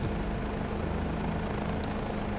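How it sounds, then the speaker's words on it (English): Steady Bell 407 helicopter rotor drone in Microsoft Flight Simulator blended with a broad rushing wind noise above about 80 knots, constant and full throughout with no talking. "we've got a nice windrush sound effect that starts to creep in from about 80 knots"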